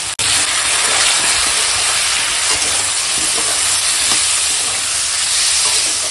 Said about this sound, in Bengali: সব মশলাপাতি দিয়ে দিয়েছি, এবার শুধু কষাবো